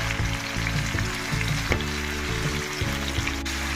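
Ingredients for a raw tamarind chutney fry in a pan with turmeric and salt, a constant close sizzle with light stirring over a low steady hum, and no talking.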